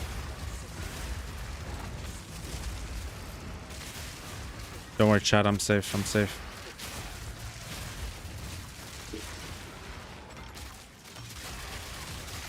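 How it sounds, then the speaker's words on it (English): A rapid burst of fireworks crackles and pops outside for about a second and a half, mid-distance, while someone talks casually over steady background game sound. "I thought someone was shooting outside, but it's just fireworks"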